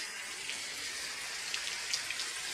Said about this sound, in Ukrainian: Бачите, який дощик.